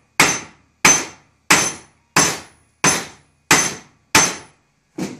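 Hammer flattening hot metal at a forge, seven evenly spaced sharp ringing blows with short decays, then an eighth, softer strike at the end, close and loud.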